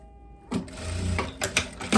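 A sewing machine stitches a pocket opening on a laise cotton dress, starting after a brief pause and running in short close bursts of rapid mechanical whirring.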